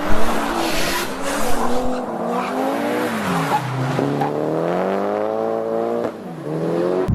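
A Mercedes C63s AMG drives a winding mountain road, its engine rising and falling in pitch through the bends, loud and close, with tire noise and no talking.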